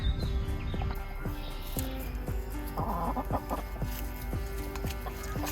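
Several chickens cluck nearby in a steady, repeated rhythm, with low background hum and a brief louder squawk partway through.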